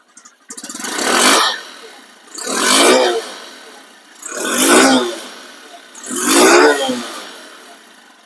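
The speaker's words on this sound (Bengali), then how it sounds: "বাইকটির ইঞ্জিন চালু অবস্থায় আছে" A Honda Livo CBS motorcycle engine in showroom condition, idling low and then revving four times in regular swells, each rising to a loud roar and falling back, heard up close.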